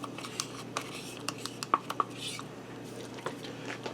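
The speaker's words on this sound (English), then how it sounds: "I'm going to give this a stir to get that in there" A spoon stirs sour cream into cheeseburger macaroni in a Ninja Foodi pot, giving scattered close scrapes and light knocks against the pot over a faint background hum.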